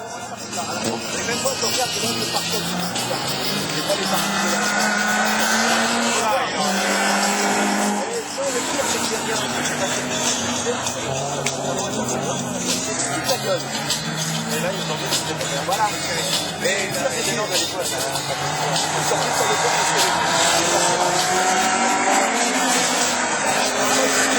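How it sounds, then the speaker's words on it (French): Loud, continuous rallycross car engines roar and rev at close range during a French championship race, rising and falling in pitch as cars accelerate, with a French commentator talking over them throughout. "Ah, les moteurs sont plus vifs."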